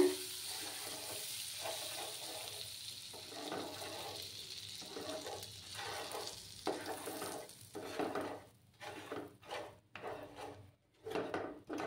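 Spatula stirring and scraping sugar and melted butter into caramel in a pan, with soft sizzling, steady at first and then breaking into choppy strokes toward the end; close and fairly quiet, no talk.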